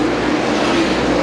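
NASCAR Busch Grand National race cars roar at Indianapolis Raceway Park during the 1996 Kroger 200, a steady loud engine drone with no voices over it.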